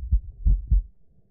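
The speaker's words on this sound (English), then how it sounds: "God, I keep hearing the heartbeat" Heartbeat from the ghost-hunting video game Phasmophobia: three deep, muffled thumps in quick succession, the second and third close together like a lub-dub, fairly loud and alone with no talk.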